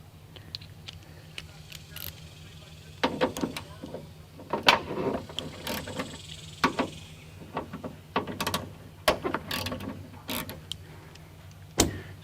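A ratchet loosening T30 bolts on the automatic trunk opener assembly of a Mercedes S600, with sharp metallic clicks in short clusters over a low steady hum, close by.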